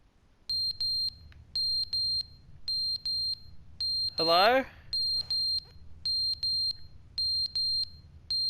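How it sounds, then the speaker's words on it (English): Repeated electronic fire alarm beeps in pairs and triplets sound loud and steady inside an office building in The Stanley Parable, with someone briefly speaking once partway through. "Is that a fire alarm?"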